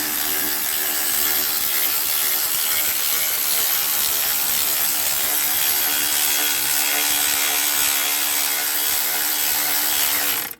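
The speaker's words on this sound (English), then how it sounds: "We'll do it with the electric ratchet." Electric ratchet winding in the cambelt tensioner on a Volvo 740 engine, a continuous buzzing whirr with fine mechanical clicking, close and steady, cutting off abruptly at the end with no talking.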